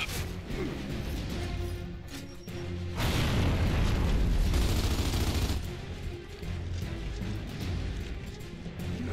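Grenade blast in Gears of War 2 combat: a loud, sustained roaring burst in the middle, surrounded by dense gunfire and crashing battle noise, with no talking.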